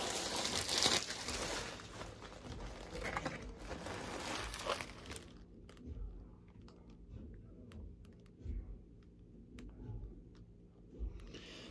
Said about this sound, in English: take a board apart like this just to get the plastic off